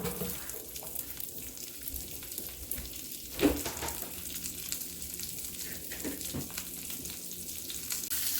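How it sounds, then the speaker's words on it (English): Onions frying in olive oil in a hot pan on the stove, a steady soft sizzle running throughout with one brief louder clatter partway through, no talking. "add in a little bit of olive oil, add in my onions"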